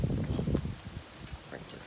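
Wind buffets a microphone outdoors beside a utility trailer being converted into a flatbed, producing close, gusty low rumbling bursts that rise and fall over a couple of seconds.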